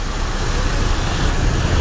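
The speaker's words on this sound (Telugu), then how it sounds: "స్లోగా ట్రాఫిక్ అవుతుంది." Slow road traffic in Vijayawada rumbles steadily, a continuous low wash of car, bus and truck engines passing at a crawl, moderately loud with no single vehicle standing out.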